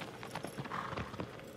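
A horse trots in Shadow of the Colossus, its hooves sounding a quick, even clip-clop rhythm of distinct thuds, moderately loud and close, with no speech.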